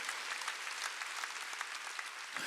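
A church congregation at a Wednesday worship service breaks into applause, a dense, steady clatter of many hands clapping together that fills the room for a couple of seconds without speech.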